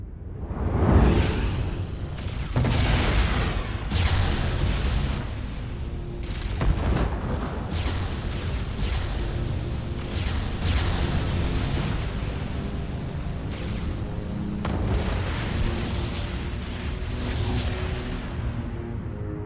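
Protoss warp ray beam fire and explosions in StarCraft 2, a dense, continuous roar of booming blasts, whooshes and crackling impacts that stays loud throughout with several sharper bursts.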